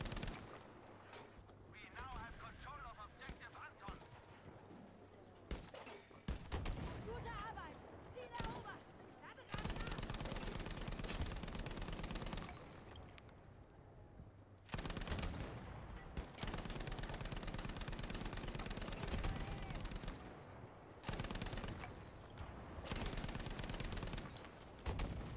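Rapid automatic gunfire in the shooter Battlefield V, with bursts of machine-gun fire broken by short quiet gaps and a voice talking now and then.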